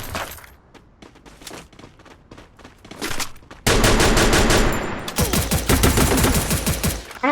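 Bursts of gunfire from powerful guns in the game Free Fire: scattered sharp shots at first, then dense rapid automatic fire, loud and close, running continuously to the end.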